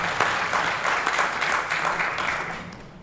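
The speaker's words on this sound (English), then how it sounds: "Please give these dedicated members of the committee a round of applause for their time and efforts." An audience at a Hall of Honor ceremony gives a round of applause, many hands clapping together in a dense, steady patter that fades slightly toward the end.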